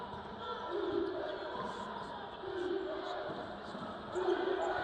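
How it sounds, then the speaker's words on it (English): Crowd at a Tennessee State vs Jacksonville State college basketball game chanting defense in rhythmic swells, moderately distant, under a commentator's voice and the bounce of the ball. "Crowd chanting defense."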